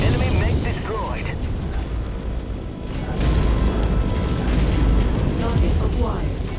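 In MechWarrior 5 Mercenaries, an enemy mech explodes with a deep rumbling boom and crashing debris, heavy low-end roar swelling midway, as a cockpit computer voice speaks over the battle.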